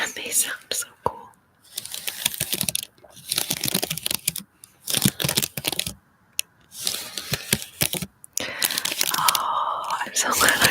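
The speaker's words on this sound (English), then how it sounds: "there's like these little kind of pieces of paper on the bottom, and they sound so cool." Small pieces of paper are handled close to the microphone in ASMR style, giving crisp crinkles and light taps in short bursts separated by quiet gaps.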